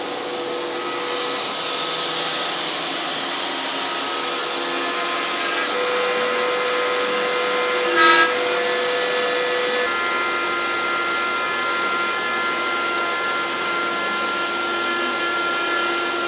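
A CNC router fitted with an eighth-inch conical cutter machines a workpiece, giving a steady, loud whine with harmonic tones throughout, a brief sharp burst near the middle, and no talking.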